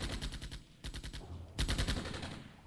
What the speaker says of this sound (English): Infantry squad is now opening fire.